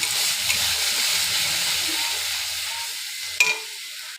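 A spice paste of garlic, green chilli and tomato stir-fried in a pan, a steady close sizzle and hiss with soft stirring scrapes and a brief clatter near the end.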